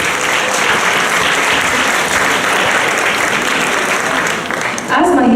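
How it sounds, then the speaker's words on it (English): An audience gives a dense, loud round of applause after a dance performance, the clapping continuing unbroken for several seconds before fading near the end. "Please join me in giving them another big round of applause"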